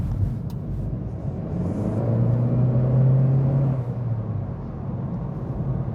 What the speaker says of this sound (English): You still have that awesome turbo sound.